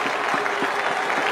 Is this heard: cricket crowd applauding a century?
yes